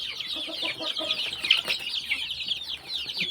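A flock of young chicks clucks and peeps continuously, close by, while pecking at a meal spread on a leaf.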